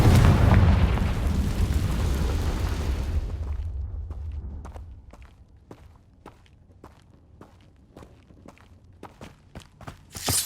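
A Confringo explosion spell in Hogwarts Legacy lands as a loud, broad blast that rumbles and fades over a few seconds, followed by a quiet run of regular footsteps.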